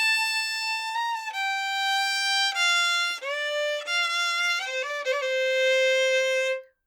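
A solo fiddle plays the country intro phrase of a song starting from the high note of the sixth, a clear bowed melody of connected notes with slides, close and alone.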